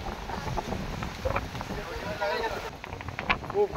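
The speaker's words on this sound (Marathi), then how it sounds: "खूप वारा सुटलाय." Strong storm wind buffets the microphone in loud, uneven gusts and roaring rumble, with a voice speaking briefly over it.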